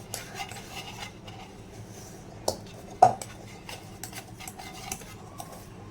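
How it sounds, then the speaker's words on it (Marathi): Batter for jaggery kharvas is mixed in a bowl, a utensil scraping and clinking against the sides in irregular knocks, with a couple of sharper taps, close and without talk. "आता याचं पण आपल्याला पूर्ण व्यवस्थित मिक्स करून घ्यायचं आहे."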